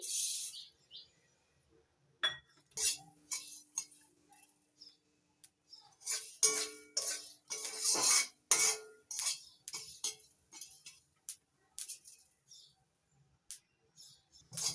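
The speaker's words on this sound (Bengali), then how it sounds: "কালো জিরেগুলো চটপট করে ফুটতে শুরু করেছে" Black cumin seeds dry-roasting in an empty pan, crackling up close as irregular bursts of sharp pops and clicks, some in quick clusters and others spaced apart, with quiet gaps between.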